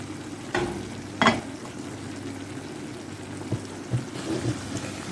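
Meat fries quietly in a tagine pot for a prune and apricot dish, a faint sizzle broken by a few soft knocks and clatters, with no voices.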